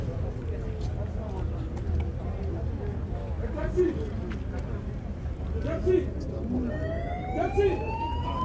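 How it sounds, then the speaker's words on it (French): An ambulance siren wails in rising sweeps near the end, over a steady hum of crowd noise and traffic at the arrival of a funeral procession in Mali. "Voilà, ambulance de Ghana."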